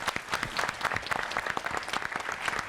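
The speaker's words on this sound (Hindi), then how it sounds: "ताली तो बजा दो।" An audience at a Sanskrit recitation competition at a Patanjali Ayurveda college in Haridwar claps in a dense, steady round of applause, many hands close by, with no talk over it.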